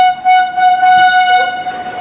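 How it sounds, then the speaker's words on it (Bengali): A train leaving Howrah for Ranchi Road sounds a loud, sustained horn. The steady tone rings over low rumbling rail and carriage noise close by. "কাঁটায় কাঁটায় 1:10 আমাদের ট্রেন ছেড়ে দিল"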